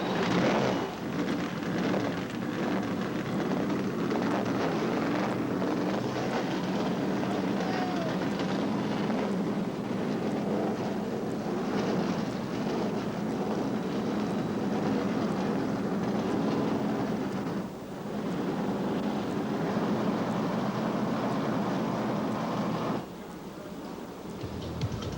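Many stock car engines fire up together at the start of the 1990 Daytona 500, forming a loud, dense, continuous roar that holds steady, dips briefly, then drops slightly near the end.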